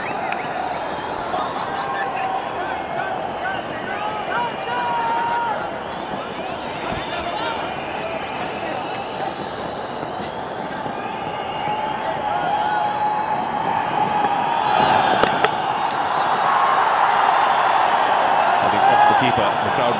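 A cricket crowd at a Karnataka Bulldozers versus Bengal Tigers match roars and chants as the bowler runs in, a dense continuous wall of voices that swells louder toward the end, with a commentator talking over it.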